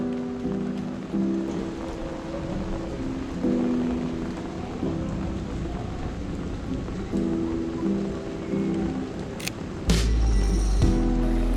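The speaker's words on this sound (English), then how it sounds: "got some lucky thunder strikes" Rain falls steadily through a late-night rainstorm, then a sudden loud thunder crack and rumble breaks in near the end over the constant patter.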